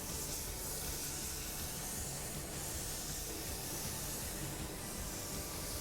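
A spray gun hisses steadily and evenly, applying gray metallic base paint in one continuous close, broadband spray with slight swells as the passes move.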